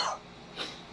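An adult recovering from Covid-19 gives two short, close coughs, a harsher first burst followed by a softer second one about half a second later.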